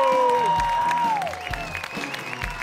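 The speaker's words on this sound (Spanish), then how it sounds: "¡Fuerte el aplauso!" A TV studio audience claps during a variety program as a musician heads to the piano, steady applause under a sustained musical tone and a gliding note.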